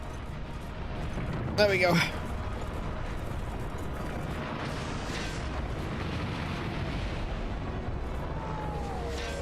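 Bomb explosions in Monster Hunter Generations Ultimate: a short, bright burst of blasts rises above steady low game rumble, while someone talks casually over the action.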